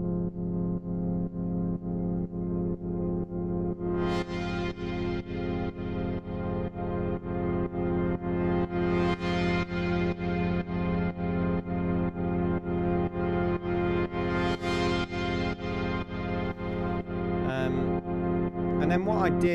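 A Eurorack modular synthesizer drones in a steady fast pulsing rhythm, with sweeping bright swells and a long reverberant wash, loud and continuous.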